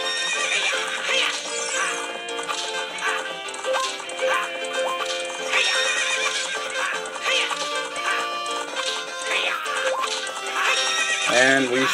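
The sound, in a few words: horse neighing and galloping in video game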